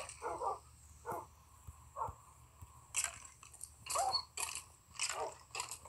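Dogs attacking in a video game: a quick series of short barks, growls and biting crunches, bursty and irregular, several overlapping toward the end at moderate loudness.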